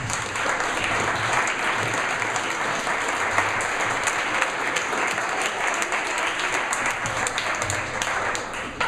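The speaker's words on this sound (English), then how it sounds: "Let's give a round of applause for these panelists." Steady, dense applause from an audience honoring panelists at a social media and public relations panel discussion, sustained and even throughout without a break.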